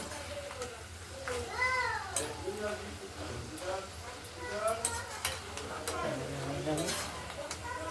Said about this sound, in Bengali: কিছুটা ভাজা হয়েছে আবার ভাজছি